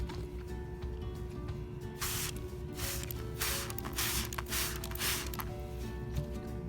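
Bursts of spray hiss in short pulses as water is sprayed onto coffee filters outdoors, over a steady low background hum, close and fairly loud.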